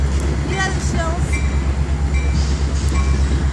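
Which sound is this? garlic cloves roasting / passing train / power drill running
passing train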